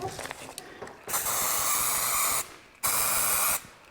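An aerosol spray can of artificial snow spraying onto a wreath: two loud, steady hissing bursts, the first about a second and a half long and the second shorter, preceded by some faint handling noises.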